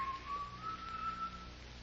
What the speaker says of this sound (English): That whistling, I can't stand it, Roy.